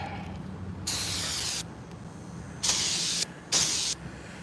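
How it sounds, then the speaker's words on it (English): Three sharp aerosol bursts of brake cleaner hiss close by onto deglazed brake parts, the first about a second long and the next two shorter, separated by quiet pauses. "We'll give it a little spray to clean it off."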